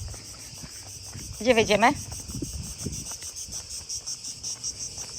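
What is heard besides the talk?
cicadas chirping in Athens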